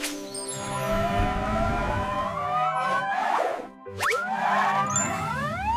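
A wailing siren sweeps up and down in pitch, bright and fairly loud, with a brief dip in the middle before rising again.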